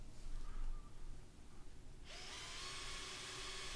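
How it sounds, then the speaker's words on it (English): Low handling noise gives way to a power drill with a center drill bit spinning up to drill metal, a steady high whine that continues to the end. "drilling a small hole with a center drill bit"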